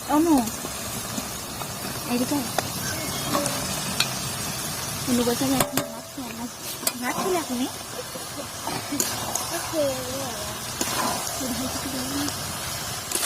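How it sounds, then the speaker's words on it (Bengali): Chicken pieces tossed into a pan with capsicum and stir-fried, a continuous sizzle with occasional stirring scrapes and clanks, while someone talks over it. "তো এর মধ্যে আমি এবার এই মাংসগুলো সব দিয়ে দেবো।"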